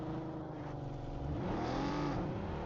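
Car engine in PUBG on the Erangel map, a steady droning motor with shifting pitch as it revs, fairly close and continuous over the short stretch.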